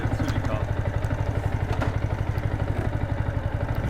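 A Yamaha MT-125 motorcycle engine starts and settles into a steady, rhythmic idle close by, its low pulsing clatter running evenly throughout.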